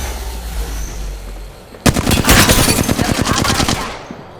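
Enemy gunfire in Apex Legends opens after a quiet stretch, a loud close burst of rapid automatic shots that rattles on for over two seconds.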